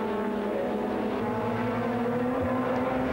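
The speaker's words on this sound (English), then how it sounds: "Gianluca De Lorenzi unable to hold out against the powerful Alfa Romeo" Alfa Romeo and Honda touring race cars at Silverstone during a 2001 European Super Touring race, a continuous droning engine roar from a distance, steady and fairly faint with no talk over it.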